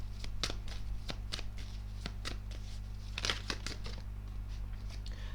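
Tarot cards being shuffled for a reading, with a rapid series of crisp papery riffles and slaps, close and moderately loud over a steady low hum.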